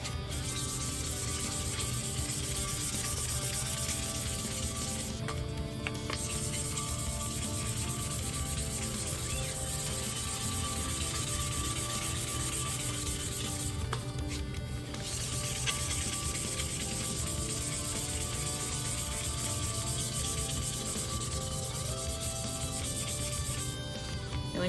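Sandpaper rubs continuously around a metal tumbler cup, a steady close scratchy hiss with two brief pauses as the strokes reset.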